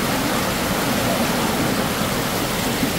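Water flows steadily at Ayn Tobruq waterfall near Salalah, Oman, during the khareef season, a loud, even rush that fills the whole span with no break and no voices.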